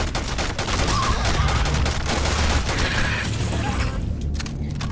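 Rapid bursts of gunfire in the video game Starfield crackle densely and loudly, overlapping into a sustained fusillade with sharp repeated cracks, tapering toward the end.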